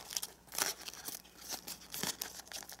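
Paper crinkles and crackles in quick, close bursts as origami paper is folded along a crease for a 3-D jack-o'-lantern, sharp rustles alone with no voice.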